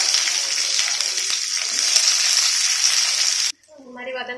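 Shallots and curry leaves with garlic frying in a pan for a fish curry, a loud steady sizzle that cuts off abruptly near the end, followed by quieter sounds.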